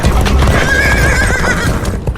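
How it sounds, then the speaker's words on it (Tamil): A charging horse in a Tamil historical audiobook sound effect, loud neighing whinny over rapid clip-clop hooves, close and continuous with no speech. "குதிரை முன்னோக்கி கோட்டைக்குள்ளே பாய்ந்து சென்றது"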